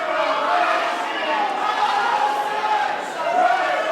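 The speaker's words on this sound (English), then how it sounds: "The crowd is actually split." A wrestling arena crowd cheers and chants in a sustained, swelling roar that rises and dips across the moment, with voices mixed into the mass of noise.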